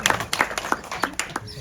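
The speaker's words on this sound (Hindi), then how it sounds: "अब इधर से तालियां आई" Sparse hand clapping from a small audience at a Hindi spiritual talk on married household life: about eight separate, uneven claps over a second and a half, moderately close, with no other sound.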